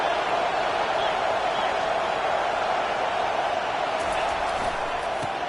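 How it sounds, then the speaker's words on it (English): A football stadium crowd at an NCAA game keeps up a broad, steady roar, dense and sustained throughout with a few faint louder touches near the end. "listen to this crowd roar"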